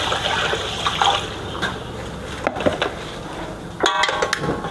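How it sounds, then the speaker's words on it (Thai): Water poured into a pot of washed rice and glutinous rice for Chinese-style sweet potato rice porridge, a steady close splashing gush with a few louder knocks and splashes. "ข้าวล้างสะอาดดีแล้วเราใส่น้ำลงไปค่ะ"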